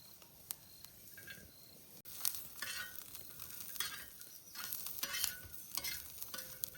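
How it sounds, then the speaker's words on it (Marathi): Grated coconut and garam masala dry-roasting in a pan for a dhaba-style egg masala: faint, intermittent scraping and stirring with a light crackle, close up and quiet, no voices. "थंडा गरम मसाला भुजून घेतो"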